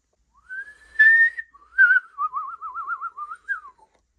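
A person whistles a short wavering tune, a few sliding notes followed by a trilling warble, clear and close with no other sounds.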